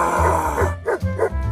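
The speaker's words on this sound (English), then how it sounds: "Here's a dog saving a man from a cougar." A dog faces off against a cougar outdoors, giving close, loud grunting barks and growls in short bursts with low rumbling between them.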